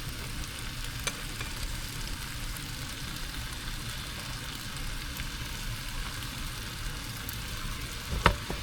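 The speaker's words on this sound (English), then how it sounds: "I'm gonna add the pepper." Peppers frying with spinach in a pan give a steady, close sizzle that stays even throughout, with a sharp clink near the end and no talking.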